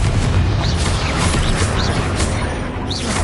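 Confringo fire spell blasts in the video game Hogwarts Legacy, a dense continuous roar of booming explosions and crackling bursts, loud and sustained throughout.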